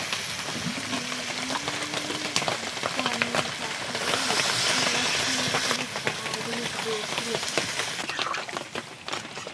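Water poured into a pan of sautéed, spiced Bengali meat sets off a steady, hissing sizzle that bubbles on under a person talking nearby.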